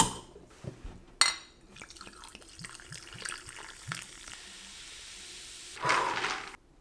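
Scattered clinks of ice and drips of liquid, followed by a short burst of fizzing sparkling water poured over ice and ginger base near the end, close and fairly quiet.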